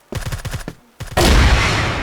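Gunfire in a clan-match first-person shooter, a rapid burst of close shots, a short pause, then a sustained loud barrage of automatic fire.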